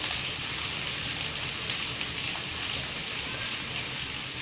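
Small onions sizzling in hot oil in a pan while drumstick leaves poriyal is cooked, a steady, dense, rain-like crackle and hiss that holds evenly throughout with no voices.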